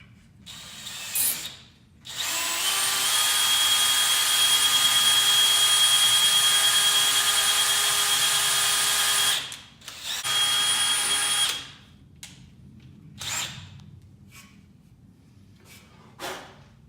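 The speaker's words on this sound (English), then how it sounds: "you can do the Tim Allen Home Improvement version and put it into a drill chuck" A power drill spins a part held in its chuck steadily for several seconds, close and loud, followed by a brief second burst and a few short clicks.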